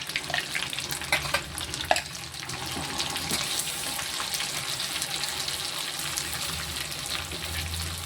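Ground pirandai, or adamant creeper, fries in oil in a pan for pirandai thokku, giving a steady soft sizzle with a few faint clinks and stirring scrapes near the start.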